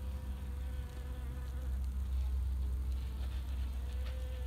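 Honeybees work in a hive box during queen rearing, a dense continuous buzzing hum of many bees up close, steady throughout with no voices.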